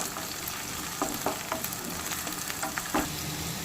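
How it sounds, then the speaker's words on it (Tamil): Onions with curry leaves and green chilies sauté in a pan for a fish curry, a steady close sizzle broken by several sharp scraping stirs of a spoon against the pan. "வெங்காயம் வந்து நல்லா பொன்னீரம் வர வரைக்கும் நல்லா வதக்கிக்கலாம்"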